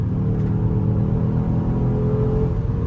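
Infiniti Q50, stock, accelerating hard with a steady, loud low engine rumble and rising drone throughout, heard from inside the car with no talking.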